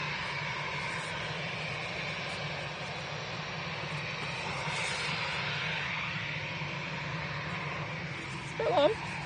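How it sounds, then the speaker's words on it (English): A Ryanair Boeing 737 jet from Rome at an airport, its broad engine roar steady and moderately distant throughout, with a brief louder disturbance near the end. "And then we have a Ryanair 737 from Rome."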